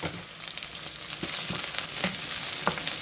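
Leftover steak fries in a pan for a quiche, giving a loud, continuous close sizzle with a few brief stirring scrapes and no talk.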